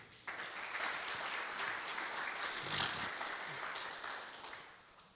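Congregation applauding during a church sermon, a burst of clapping that swells, holds steady for several seconds, then tapers off, heard at a moderate distance.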